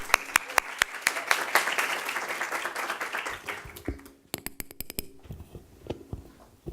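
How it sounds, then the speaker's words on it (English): Audience applause at a conference talk, a dense wash of many hands clapping that swells and then thins out into scattered, sparser claps toward the end. "Let's give Sandy a big round of applause."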